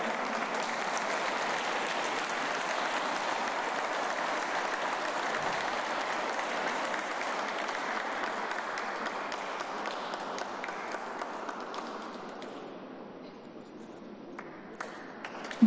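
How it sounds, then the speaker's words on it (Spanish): Sustained crowd applause for award-winning teachers at a ceremony at Mexico's Secretaría de Educación Pública, steady and full for about twelve seconds before thinning out near the end. "Brindemos nuevamente un aplauso a las maestras y maestros galardonados"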